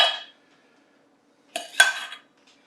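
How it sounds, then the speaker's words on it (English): Plates and cutlery clink together while food is plated with tomato. There is one short chime, a pause, then a cluster of close, bright metallic taps and scrapes. "let's plate them up with the tomato"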